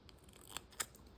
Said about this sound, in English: I use duct tape, like this. I cut a strip about 1 inch